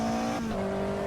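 A race car engine droning steadily at high revs at VIR circuit, heard close from inside, with a brief shift in pitch partway through, loud and continuous.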